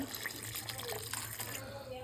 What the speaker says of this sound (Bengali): এরপর দিয়ে দেবো জল